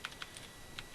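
Quick, light keystrokes on a computer keyboard, several soft taps in an irregular burst, close and quiet with no talk.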